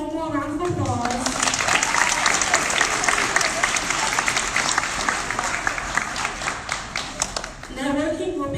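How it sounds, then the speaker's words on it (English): Audience applause fills a room at a Tulsa Changemakers pitch night, a dense, steady wash of clapping that swells after a brief spoken lead-in and carries for several seconds before tapering, with a voice returning at the end. "Let's give them one more round of applause"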